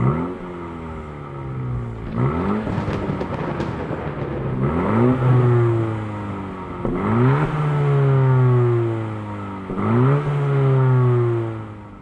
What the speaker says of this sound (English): The sound of an engine revving up pierced through the thunder.